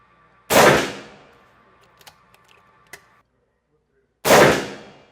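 The Ataman M2R carbine big-bore air rifle fires twice, each a loud, sharp blast several seconds apart, with faint mechanical clicks and handling ticks between the shots.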